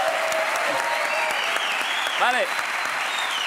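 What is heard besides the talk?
studio audience applause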